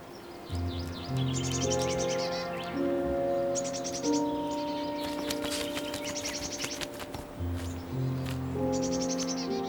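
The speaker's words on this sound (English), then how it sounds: "Domestic birds, such as tits, would probably survive without food, despite the harsh conditions." Tits call in a snowy Swiss winter, giving repeated short high chirps and twitters over sustained musical tones.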